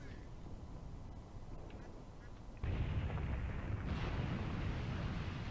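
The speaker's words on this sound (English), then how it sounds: "And there's the artillery preparation." Artillery barrage in the war game Graviteam Tactics: a steady low rumble of distant shelling that swells suddenly and grows louder and denser partway through, with no voices over it.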